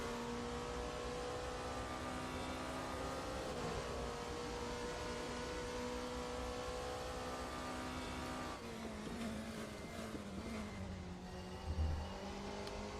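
Simulated hypercar engine in the RaceRoom racing game, a steady tonal drone that holds a high rev and then dips as the car downshifts near the end, with no voices.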